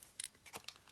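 Scissors make a few quick, crisp snips in a brief burst of trimming, close by and fairly quiet.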